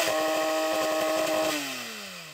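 A Porsche 911 GT3 engine held at high revs in drive gives a loud, buzzy, steady roar, then the pitch drops smoothly as the revs fall away.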